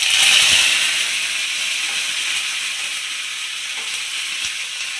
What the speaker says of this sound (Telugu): చూడండి పచ్చిమిర్చి పల్లి ఇలా వేగాలి